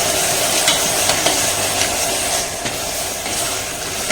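A biryani masala mixture for beetroot biryani is stirred in a pan, a dense continuous sizzle and frying hiss with light scraping strokes, close and fairly loud, no talking.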